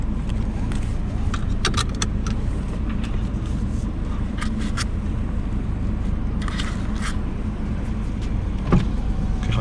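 A seat belt is pulled across and buckled inside a 1990s Mercedes-Benz W202 C230, giving several sharp clicks and rattles over the steady low hum of the car's cabin, with no talking.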